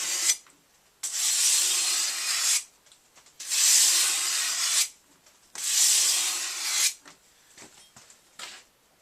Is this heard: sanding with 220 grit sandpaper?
yes